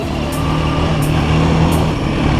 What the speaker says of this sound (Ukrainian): Спеціально їду на горбочки всякі